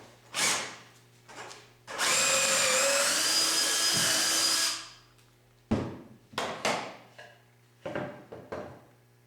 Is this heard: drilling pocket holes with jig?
yes